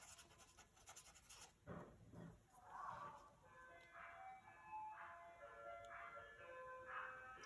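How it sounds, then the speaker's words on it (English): A distant ice cream truck melody plays faintly outside, its repeating chime tones carrying over a quiet room with a few soft scratching sounds. "that ice cream truck is extremely loud"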